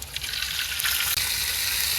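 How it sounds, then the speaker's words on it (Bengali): Water splashes into a pan of lightly fried onions in a village kitchen, a loud, close, continuous hissing sizzle and gush that carries on steadily for about two seconds. "পেঁয়াজ টালা হয়ে গেছে, একটু পানি দিয়ে দিলাম,"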